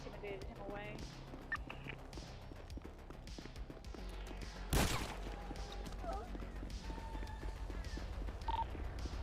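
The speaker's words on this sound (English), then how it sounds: "Shots fired, one suspect down." Gunfire in a video game police roleplay: one loud, sharp burst cracks out midway through, under continuous talking and background game noise.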